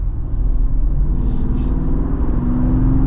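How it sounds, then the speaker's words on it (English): 2025 Jeep Wrangler 392 V8 pulling at partial throttle, a deep steady engine rumble heard from inside the convertible SUV with some road and tire noise, loud and continuous throughout. "this is the thing I love about the 392 is you never have to go full throttle. You just kind of partial. And it's got so much power."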